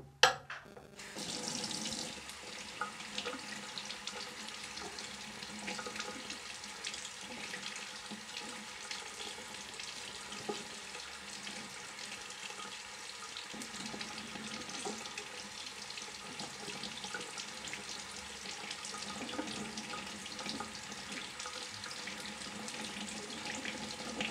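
Tap water pouring steadily over an Amazfit GTS 2 smartwatch during a waterproof test, a continuous close splashing hiss that starts abruptly and runs throughout, no one talking.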